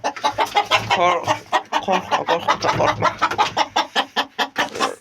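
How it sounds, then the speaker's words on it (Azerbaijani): A rooster clucks and calls loudly and close, in rapid repeated bursts, with a man's brief spoken words mixed in near the end. "Gözəl xoruzdur."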